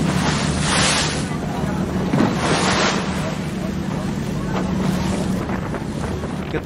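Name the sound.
cruise ship sailing out to sea on the Bosphorus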